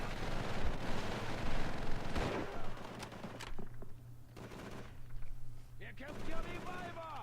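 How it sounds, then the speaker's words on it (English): Gunfire from the World War II shooter game Call of Duty 3 crackles and booms in a dense, continuous barrage, with rapid shots and blasts layered over a low rumble, loud throughout and easing slightly toward the end. "I am getting shot at."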